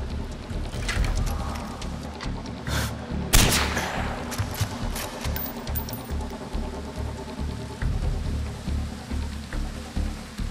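Gunfire in Far Cry 4 on PS4: a sharp, loud sniper-style shot stands out near the middle, over a steady rumble of battle noise and scattered smaller cracks.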